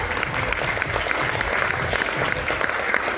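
Audience at a product presentation breaks into vigorous applause, steady dense clapping throughout, evenly loud and continuous.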